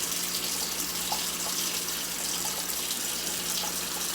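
Potatoes being canned are rinsed under a running kitchen tap, with a steady, fairly loud rush of water splashing continuously and no talking.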